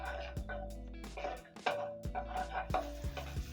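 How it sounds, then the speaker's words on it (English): A spatula stirs onions in oil in a pan, giving a series of close scraping strokes and light metallic clinks with a faint sizzle underneath, no talking. "Then I'm going to stir in the onions and let the onions soften."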